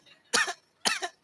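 A teacher's voice imitates a barking, dog-like cough, two harsh coughs about half a second apart, close and dry in a quiet room.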